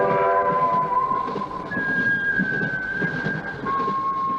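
A train rumbles along in the horror film Horror Express, its long steady horn-like tones sliding over a dense rolling rattle, loud and continuous with no voices.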